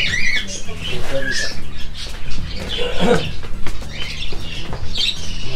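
Budgerigars, some yellow, chirping and squawking in a busy, irregular flurry of close calls, with people talking over them.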